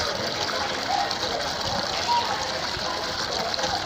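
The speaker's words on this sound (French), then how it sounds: "Un eau très claire et pure." Clear water from a newly built well in Cameroon gushing and splashing steadily at close range, a continuous rushing flow with faint voices in the background.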